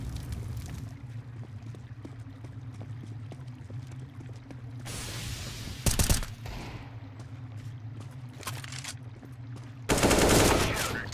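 Rapid bursts of automatic gunfire crackle through a Counter-Strike: Global Offensive match, with dense volleys of shots over a steady low game hum and two louder, brighter bursts standing out.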